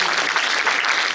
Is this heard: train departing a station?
no